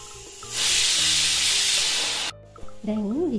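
A pressure cooker boiling cowpeas lets out a loud, sustained hiss of escaping steam that cuts off abruptly, followed by a rising and falling warbling whistle.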